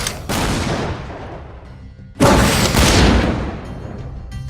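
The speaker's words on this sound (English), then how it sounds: "simultaneously trigger random variations of each was used for the shotgun, chain gun, and of course, the rocket launcher." Designed video game weapon fire from a shotgun, chain gun and rocket launcher comes as two heavy, loud blasts, each trailing into a long rumbling decay, with the second boom stronger.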